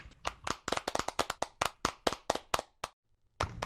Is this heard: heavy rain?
no